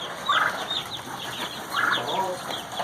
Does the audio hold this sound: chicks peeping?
yes